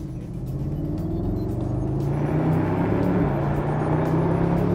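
A Mercedes-Benz SLS AMG Roadster, the 2012 model, accelerating on a track, its engine a loud, steady low rumble that builds in strength over several seconds, heard alone without talk.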